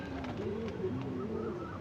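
Arshad-breed pigeons coo softly in a few low, rolling, repeated calls, faint and unbroken by talk.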